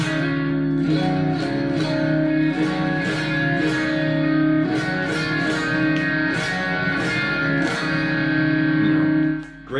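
An electric guitar with Strat-style in-between pickup tones plays blues rock through a modeling amp modeled on a Fender Cyber Twin, with distorted chords strummed in a steady rhythm and sustained, ringing notes.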